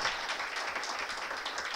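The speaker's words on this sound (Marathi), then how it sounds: "या सगळ्यांचं आपण टाळ्या वाजून निदान आपण आज एक अभिनंदन करूया जोरदार." Applause from an indoor audience honouring volunteers in jerseys, a steady dense patter of many hands clapping throughout, fairly quiet and with no voices over it.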